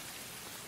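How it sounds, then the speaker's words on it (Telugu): Heavy rain falling during a film scene makes a brief, even rush of broadband hiss, loud and continuous, with no voices over it. "చాలా పెద్ద వర్షం కదా?"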